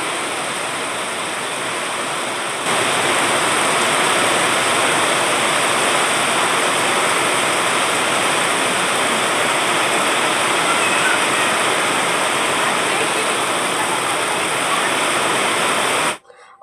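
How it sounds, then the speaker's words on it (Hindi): Very heavy evening rain pours down in a steady, loud, unbroken hiss that surges louder after a few seconds and continues until it abruptly stops. "अभी है शाम का टाइम और हो रही है बहुत तेज़ बारिश"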